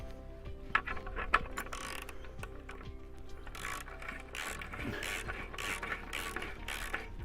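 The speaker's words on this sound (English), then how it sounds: "nip this up with a 15mm socket and a wrench or a ratchet" A ratchet with a 15mm socket tightens a bolt on a wooden fence post, giving a run of irregular mechanical clicks and pawl rattles at close range, with no talking.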